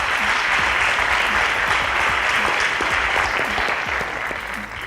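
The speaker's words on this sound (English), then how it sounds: "A round of applause for her is correct." Sustained, loud audience applause for a correct answer at a school quiz competition, a dense even patter of many hands filling the whole stretch and easing slightly near the end.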